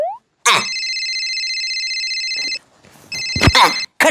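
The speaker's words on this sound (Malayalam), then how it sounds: "ഭാർഗു നിരന്തരമായി എന്നെ ഫോൺ വിളിച്ച് ശല്യം ചെയ്യട്ടെ." A telephone ringtone in a Malayalam comedy sounds loud and steady for about two seconds, stops briefly amid faint background noise, then rings again in a second burst, suggesting repeated incoming calls.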